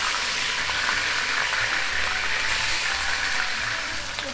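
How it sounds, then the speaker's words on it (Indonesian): Ingredients including ginger fry in a pan for tomato rice with red-cooked chicken, giving a steady, loud, close hissing sizzle that continues without a break, with no talk over it. "Okay, kita goreng sampai habis."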